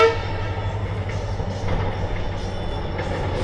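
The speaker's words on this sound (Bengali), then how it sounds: "ট্রেনটা যাচ্ছে" Rumble of a train passing near Bhalukpong on the road to Arunachal, a steady loud mechanical drone with harmonic tones suggesting a distant horn, no voices.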